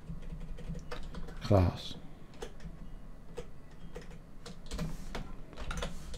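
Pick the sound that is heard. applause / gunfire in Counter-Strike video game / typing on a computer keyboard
typing on a computer keyboard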